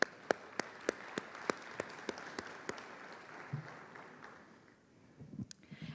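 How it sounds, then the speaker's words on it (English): An audience at an agriculture summit applauds its sponsors with a wash of clapping. A few sharp individual claps stand out early, then the applause fades into faint murmuring and shuffling. "so let's give them a round of applause."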